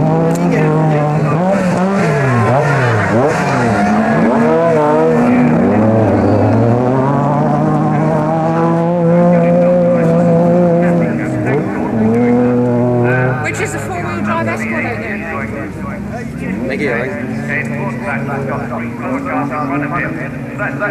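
A Ford Escort four-wheel drive rally car races hard, its engine a loud, continuous wavering roar that climbs and falls with gear changes, close by and filling the whole stretch.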